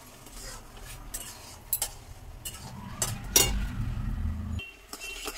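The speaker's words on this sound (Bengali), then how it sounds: "গুড়টাকে আমি নাড়াতে থাকি।" Jaggery with cardamom is stirred in a pan, the spoon scraping and clinking against the metal in irregular strokes, with a few sharper clanks and a soft sizzle underneath.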